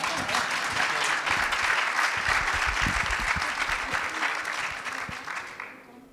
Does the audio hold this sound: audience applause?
yes